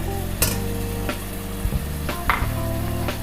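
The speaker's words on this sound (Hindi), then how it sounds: "गाढ़ी गाढ़ी दही है, इसको इस तरीके से अच्छे तरीके से पहले फेंट लेंगे" Thick yogurt is beaten in a bowl with a spoon or whisk, giving a few distinct scraping clinks and soft wet strokes spaced irregularly over a steady background hum, close by and with no talking.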